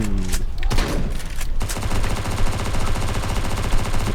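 Rapid automatic gunfire from a weapon in a zombie video game, a dense continuous burst of loud shots after a few separate opening blasts, holding steady to the end.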